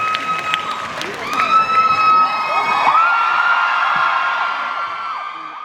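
A crowd claps and cheers loudly, with whoops and shouts rising over sustained applause before it gradually tapers off.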